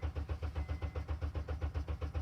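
A car engine cranks on the starter during a relative compression test, giving an even, rapid chugging pulse of about six beats per second that stays steady and fairly quiet throughout.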